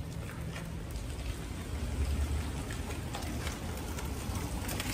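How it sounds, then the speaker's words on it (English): Light drizzle falling outdoors near a beach in Florida, a soft steady hiss of rain with faint patter, continuous and even throughout with no voices. "Still the drizzle fall down."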